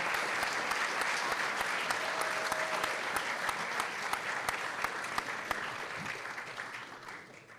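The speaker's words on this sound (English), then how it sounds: "A big round of applause for all of our students." A school board meeting audience gives students a long round of applause, dense clapping from many hands with a few sharper nearby claps standing out, gradually thinning toward the end.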